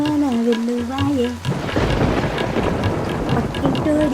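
Heavy rain and thunder from a monsoon storm roar steadily as a dense, loud wash, beginning under a singing voice that breaks off before the storm sound takes over.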